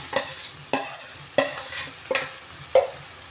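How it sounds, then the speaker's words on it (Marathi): Marinated prawns tossed and stir-fried in homemade masala in a pan, five crisp, evenly spaced spatula strokes over a faint sizzle, close and clear, with no talking. "चांगलं परतून घेणार आहेत आता. खालीवर परतून घ्यायचं चांगलं."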